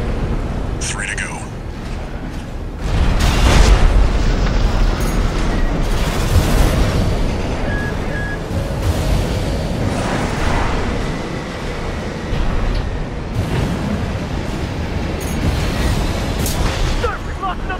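A sub-generator explodes in Armored Core 6 with a deep booming blast and rolling rumble, followed by further thuds and heavy battle noise under radio-style voices talking.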